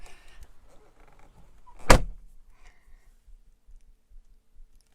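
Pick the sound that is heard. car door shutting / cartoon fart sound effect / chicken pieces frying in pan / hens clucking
car door shutting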